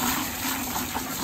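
Water swirled and sloshed as fermented tomato seed mold is broken up in a container, a continuous close splashing, gushing texture without any talking.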